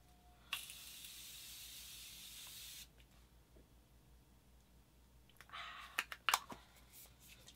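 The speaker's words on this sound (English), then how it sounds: "let's go ahead and put this everywhere before we go" Morphe setting spray mists out in one long hiss of a couple of seconds, followed later by several short bursts and light handling clicks.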